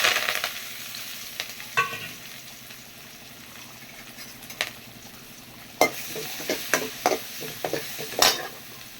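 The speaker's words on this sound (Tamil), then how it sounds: "இதெல்லாம் அரைச்சதெல்லாம் போட்டு வதக்கிக்கலாம்" Loud sizzling as ground spice paste fries in a pan for Madurai mutton curry, with intermittent scraping and stirring clicks from a utensil, close up and continuous.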